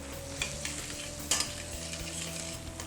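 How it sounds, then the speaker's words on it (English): Kikkoman sweet and sour sauce with pineapple and pepper flakes being stirred in a pan, a soft, continuous sizzle with faint spoon scrapes and a single brief clink, quiet and close, no voices. "Next, we'll add our pineapple, pepper flakes, and we'll stir to combine."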